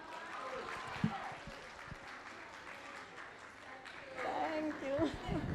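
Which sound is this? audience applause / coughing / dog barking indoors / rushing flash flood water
audience applause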